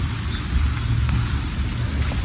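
Rain falls steadily on New York City streets, giving a dense, even hiss with a low rumble of city traffic beneath it.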